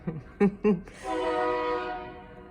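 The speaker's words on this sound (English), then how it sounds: "Excuse the train." A passing train blows its horn in a sustained, steady chord at moderate distance, following a few short bursts of a nearby voice.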